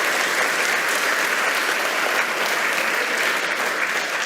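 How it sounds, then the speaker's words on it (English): Audience applause at a talk on navigating a financial reset: dense, steady clapping filling the room, loud and continuous with no one speaking. "Round of applause."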